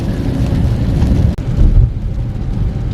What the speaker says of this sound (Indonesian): Hujan serem ya selama kita perjalanan gini